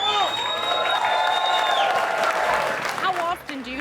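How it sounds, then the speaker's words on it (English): Restaurant diners on a Route 66 stop in Texas clap and cheer for a customer taking on a big steak eating challenge, a dense burst of applause with whoops and voices mixed in throughout. "Y'all give him a round of applause and cheer him on."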